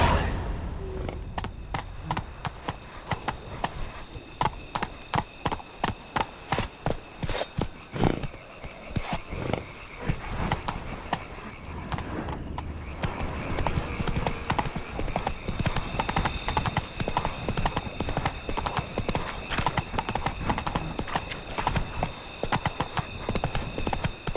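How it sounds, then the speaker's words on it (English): A horse galloping in The Witcher 3 video game: rapid, rhythmic hoofbeats close and loud, steady throughout, with brief bits of game sound and a short gap partway. "Run, Roach."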